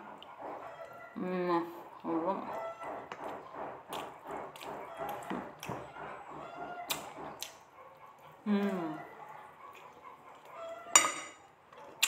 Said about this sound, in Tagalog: Alaga lang to guys, alaga ng manok.